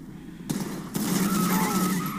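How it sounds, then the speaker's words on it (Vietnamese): Gunfire in the video game GTA V: a couple of sharp shots followed by a dense burst of rapid automatic fire, loud and close. "Đã thế phải dùng súng thôi."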